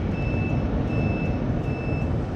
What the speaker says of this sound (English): And we're making the buzzer noise.